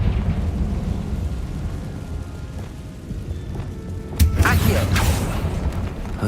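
A Confringo explosion spell goes off in Hogwarts Legacy inside a tomb, a sharp crack and rumbling burst after a stretch of low ambient rumble, with crackling debris trailing off.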